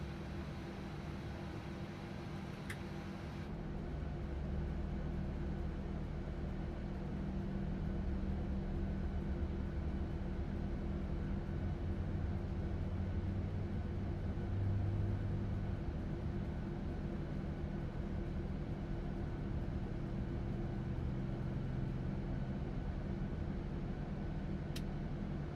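Aircraft engine starting in Microsoft Flight Simulator 2024, a low steady rumble and whine that swells after a brief click and holds as a constant drone, moderately faint with no voices.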